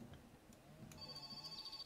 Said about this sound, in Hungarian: Csörög a telefonom.